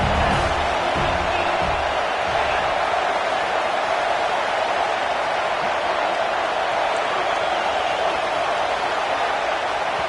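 Stadium crowd in a college football video game, a dense, steady roar of cheering fans filling the whole span at constant loudness, with a brief thud near the start.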